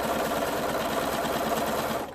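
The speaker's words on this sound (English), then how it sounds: "So I already sewed that one, so I'll just come to sew this one." Sewing machine stitching quilt pieces together, a steady, fast, continuous mechanical whir running close and unbroken before easing off at the end.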